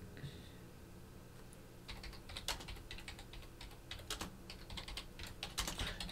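Keys clatter on a computer keyboard in quick uneven bursts of typing, fairly close and moderately loud over a low room hum, with no voices.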